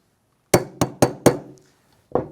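A hammer knocks a brass punch into a SCAR rifle receiver: four sharp metallic clinks in quick succession, then a pause and a fifth tap, close and crisp with no talking.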